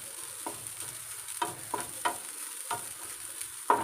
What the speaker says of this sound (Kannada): ನಾನಿವಾಗ ಕಾಯನ್ನು ಹುರ್ಕೊಳ್ತೇನೆ.